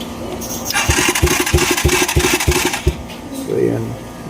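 A motorcycle engine with low compression that will not start is kicked over, giving a quick run of rhythmic, chuffing pulses that sputter without catching, close and loud, with a low murmur after.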